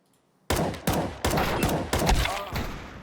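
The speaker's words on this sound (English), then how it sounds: "you're instantly shooting, like just instantly shooting, instant shoots" Rapid bursts of close, loud gunfire from Counter-Strike 2 on the Dust2 map, about five sharp volleys in quick succession with brief gaps between them.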